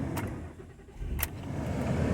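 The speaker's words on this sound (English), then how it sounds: "I'm gonna start the car." A 2010 Honda Odyssey with a blower motor stuck on, starting up: a brief crank burst and then the engine catching into a steady idle rumble, heard close with no voices.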